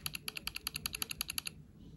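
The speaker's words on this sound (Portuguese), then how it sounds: "Esse é o som. Retro. Como se fosse uma máquina de escrever." Retro typewriter-style keyboard sound from Samsung Good Lock Keys Cafe on a Galaxy phone: about fifteen crisp, evenly spaced clacks in quick succession that stop abruptly, leaving quiet.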